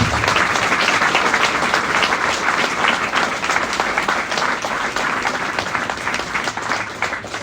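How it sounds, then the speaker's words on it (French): An audience at a New Year's greetings gathering applauds steadily, a thick wash of many hands clapping at an even, loud level throughout with no pause. "je vous propose qu'on leur fasse un petit applaudissement à tous"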